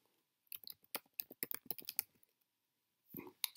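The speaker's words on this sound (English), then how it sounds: "Let's go ahead and type in immigration." Quick bursts of computer keyboard typing, close and clear, with a pause and then a final cluster of keystrokes.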